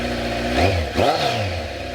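A Kawasaki Z900 motorcycle fitted with LeoVince headers and no catalytic converter revs up twice, its loud mid-pitched engine note rising and falling over a steady idle, close by with no talking.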